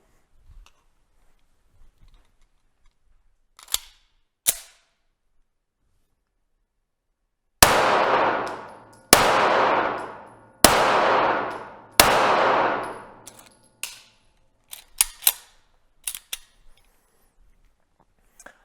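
CZ TS 2 pistol fired on a shooting range: four loud, sharp shots in a steady string, each ringing briefly, followed by several quieter clanks and ticks, with faint knocks before the string.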